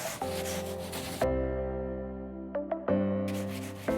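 Close, continuous scrubbing of thick grease off kitchen cabinets with TSP cleaner, rubbing against the hard surface, with a steady humming drone in the middle stretch and no talking.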